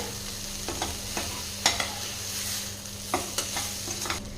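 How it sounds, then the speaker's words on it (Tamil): Brinjal chukka, a spicy Tamil eggplant side dish topped with coriander leaves, gets stirred in a pan, with scraping taps and strokes repeating unevenly over a low, steady sizzle. "மேலாப்பில் கொஞ்சம் மல்லி இலைகள் சேர்த்திக்கலாம் சேர்த்துட்டு கலந்துக்கலாங்க"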